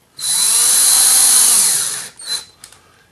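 A power drill sets a screw into a wooden picture frame with a sustained loud whine for nearly two seconds, followed by a couple of brief, quieter bursts as the screw seats.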